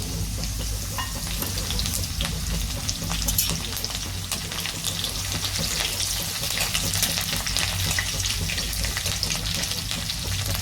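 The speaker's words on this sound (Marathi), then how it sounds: "लसूण टाकणार आहे लसूण थोडासा लाल होऊन द्यायचा मिरची टाकणार आहे" Garlic and green chilies fry in hot oil, giving a steady, close crackling sizzle with a constant dense hiss throughout and no talking.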